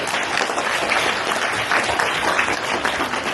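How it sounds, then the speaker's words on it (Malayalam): An audience claps loudly and steadily at a gathering in Karunagappally, with dense, continuous applause and no talk. "നല്ലൊരു കൈയടി വലിയൊരു കൈയടി"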